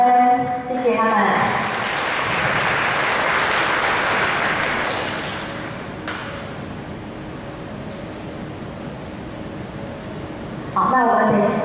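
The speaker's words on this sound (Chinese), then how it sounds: "好，掌声，谢谢他们。" A school audience at a wind band club concert in a Tainan high school bursts into loud, dense applause that holds steady for several seconds, then fades toward a quieter tail, with an amplified voice briefly heard at the start and end.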